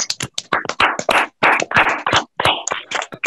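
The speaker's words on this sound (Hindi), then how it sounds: "सभी अनम्यूट करके मैं चाहूंगा कि सर के लिए एक बहुत जोरदार तालियां हो जाएं।" Several participants on a video call clap for a guest, giving choppy, uneven bursts of applause with brief gaps as the audio cuts in and out.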